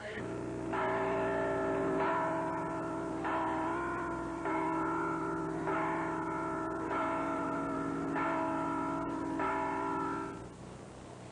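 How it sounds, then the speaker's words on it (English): Church bells ring in a steady, repeating peal in New York for a Liberty Weekend bell-ringing ceremony, each stroke leaving a long resonant hum, fairly distant and continuous until fading at the end. "bells rang out across the nation at churches, towns, and schools"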